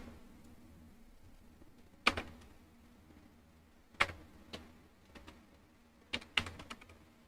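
Sparse keystrokes on a computer keyboard during a beginner CSS coding session, a few isolated clicks and short clusters of taps, close and crisp over a quiet room hum.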